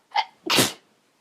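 A single loud, close sneeze: a sharp intake burst followed by a forceful explosive release, alone with no talk.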